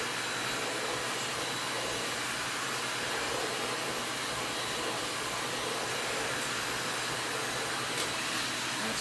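A heat gun runs steadily during Tower Garden assembly, a constant loud broadband blowing hiss that holds unchanged for the whole stretch with no pauses or talk.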